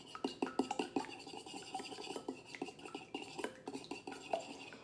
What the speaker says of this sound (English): So I've just whisked this, the eggs and canola oil